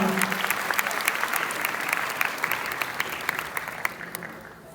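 An indoor audience gives a guest lecturer a round of applause, dense steady clapping from many hands that fades out near the end.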